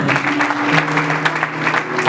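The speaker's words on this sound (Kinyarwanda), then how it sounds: "dukomera amashyi." A church congregation claps together during a Sunday service, steady dense applause mixed with sustained sung or spoken tones underneath.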